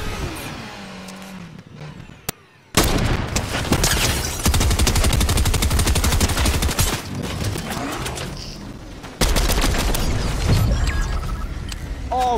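Gunfire in Fortnite Battle Royale: after a quiet stretch, loud bursts of rapid automatic shots break out and continue in dense rattling volleys, with a brief pause before another close burst near the end.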